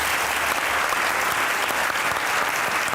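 A live studio audience claps steadily as a poet is welcomed on stage, dense and sustained applause filling the room throughout with no talk over it.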